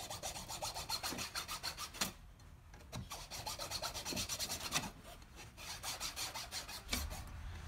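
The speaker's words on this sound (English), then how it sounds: "For those of you who don't know, this is a hacksaw" A hacksaw cuts through green, not fully dried wood in a woodturning shop, making a quiet, steady back-and-forth rasp with a fast regular stroke rhythm and a few brief pauses.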